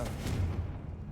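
A Confringo fire spell blast in the Hogwarts Legacy video game, a loud booming explosion with a rumbling low-end tail that fades over about a second, heard alone.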